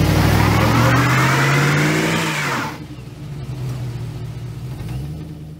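A Chevy 3500 pickup truck engine revs loudly and close by, its pitch climbing and holding, then it drops off sharply to a lower, steady idling rumble.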